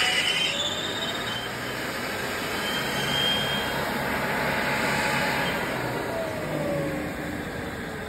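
An engine fitted with a muffler with a 3-inch outlet runs steadily, giving off a loud, continuous roar and hiss with no talk over it.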